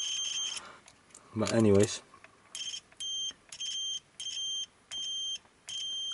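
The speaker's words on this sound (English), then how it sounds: "the buzzer is not large, then it's got all that horrible squeaky noise when as you're sliding it through the metal" A cheap Aneng multimeter's continuity buzzer gives a series of short, shrill beeps at a steady rhythm, with a brief squeaky burst and some talk just before.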